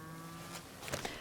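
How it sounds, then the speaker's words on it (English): Cows mooing in the video game The Outer Worlds, a faint low drawn-out moo over steady background game ambience, followed by a couple of brief brighter calls near the end. "That's the cows I can hear."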